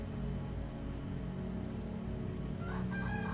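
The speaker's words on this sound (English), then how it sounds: "I apologize if you hear any chickens in the background." Chickens cluck and a rooster crows faintly in the background over a steady low hum, with no one speaking.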